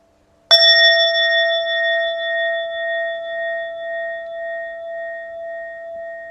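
A meditation bell is struck once and left to ring, a clear near tone with bright overtones that fades slowly over about six seconds in a quiet room.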